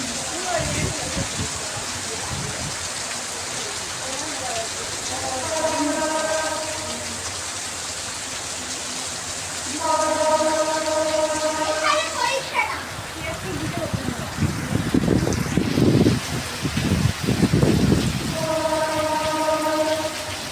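Heavy rain pours during a storm, a dense steady hiss on surfaces beneath a voice and adult talk, with rising gusty surges partway through.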